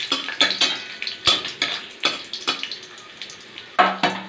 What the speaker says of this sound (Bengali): আর এই দেখো আমি এখানে কয়েকটা রসুন ফোড়ন দেবো, দিয়ে পরে রসুনগুলোকে একটুখানি ভেজে নেব